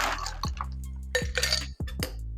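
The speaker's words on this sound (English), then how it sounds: "Then you're going to fill a Collins glass with ice and then strain into the glass." A cocktail made with pineapple juice is strained from a shaker into a Collins glass filled with ice: a short pour of liquid over ice with a few sharp clinks of ice and glass.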